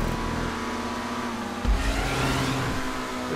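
A car engine runs at full throttle in GTA 5 Online during a stunt race, a steady mid-pitched drone with a sharp thump and a rising rev partway through, fairly quiet and alone.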